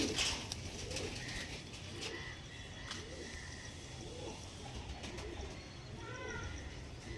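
Kalshira and Kalanka pigeons coo in soft, repeated throaty calls against a quiet background, with faint scattered clicks and rustles nearby.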